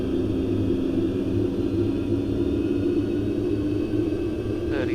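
Airplane engines drone steadily as the throttles advance under autopilot, a loud, even cabin rumble with a low hum that holds throughout with no talking.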